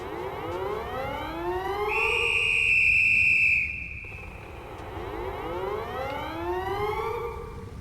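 Wailing alarm siren in the video game Threshold, rising and falling sweeps that repeat steadily, with a loud sustained high tone in the middle, near and alone with no talk.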